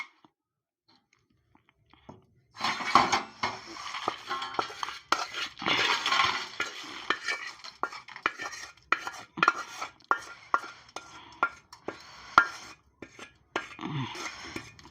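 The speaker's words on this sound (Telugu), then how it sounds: "వేరే గిన్నెలోకి వేసుకుందాం." Chennangi leaf chutney is scraped from a pan into another bowl, with a run of close metallic spoon clinks, scrapes and taps against the vessels after a quiet start.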